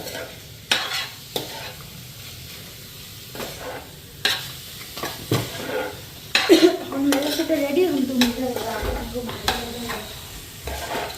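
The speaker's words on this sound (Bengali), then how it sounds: "ভাজা দিলে তেলে মশলার লগে ভাজতে লাগে।" Soybean chunks frying in oil with ginger, garlic and spices in a home kitchen; a utensil scrapes and knocks against the pan in irregular bursts over a soft continuous sizzle, close by, no speech.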